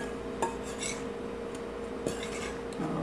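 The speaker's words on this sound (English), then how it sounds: "we're going to blend this in the mixer, in the mixing bowl," Spices being blended in a mixing bowl for Chinese orange seitan, with light scraping and a few soft clinks of a utensil against the bowl under a steady background hum.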